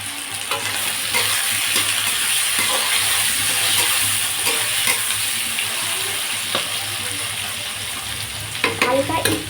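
Onions and tomatoes frying in a pan make a loud, steady close-up sizzle with occasional stirring scrapes and clinks, and no talking.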